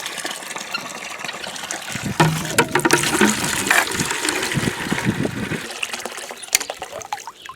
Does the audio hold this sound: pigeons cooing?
no